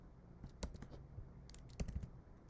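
Several quick keystrokes on a computer keyboard while entering an Excel macro, sparse soft clicks in two short bursts, quiet and close, with no talking.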